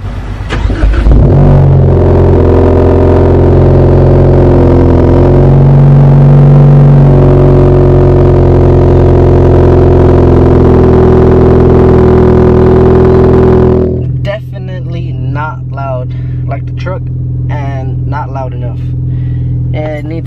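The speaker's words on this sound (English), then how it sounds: "Let's give y'all a little cold start." A car engine cold-starts and holds a loud, steady raised idle with a strong low drone for about twelve seconds, then drops to a rougher, quieter idle with sharp ticking over it.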